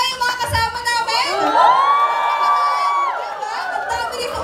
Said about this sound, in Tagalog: Kaya magingay yung mga kasama namin.